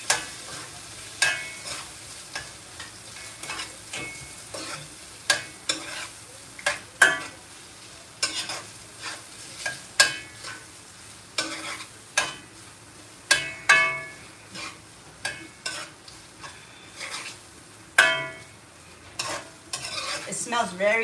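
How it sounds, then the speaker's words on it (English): Yellow rice with canned beef and cherry tomatoes is stirred in a pan, with repeated sharp spoon scrapes and clicks over a soft sizzle, close and fairly quiet, with no talk. "And stir."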